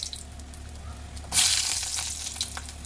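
Mustard seeds, chana dal and garlic hit hot oil in a pan for lemon rice tempering, a sudden loud sizzle bursting after a quiet moment, then settling into a steady close crackle.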